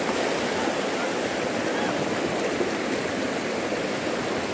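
The Rosario River flowing, a steady, close rush of moving water that keeps up an even hiss and roar for several seconds with no talk over it.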